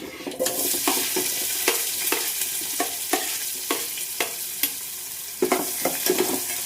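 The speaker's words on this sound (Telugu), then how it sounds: "నేను ఉల్లిపాయలు అయితే వేసేసుకున్నాను" Onions frying in hot oil for an aloo tomato curry, a steady loud sizzle with repeated stirring scrapes of a utensil in the pan, close and without talk.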